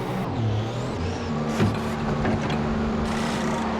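A Marussia racing car in a racing video game slows into the pit lane on its pit speed limiter, its engine a steady, droning hum that runs throughout with a few brief higher whines layered on top.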